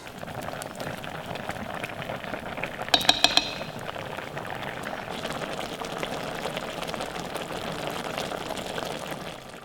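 A pot of pasta with mushrooms and bacon simmers in water as it is stirred, giving a steady bubbling hiss throughout, with a brief cluster of metallic clinks from the spoon against the pot.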